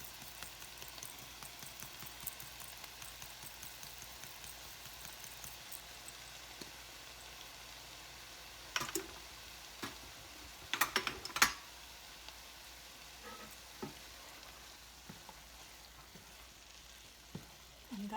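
Spices sizzle quietly in a pan for butter chicken curry, a low steady crackle with a few brief bursts of stirring or scraping, faint and close, with no voices.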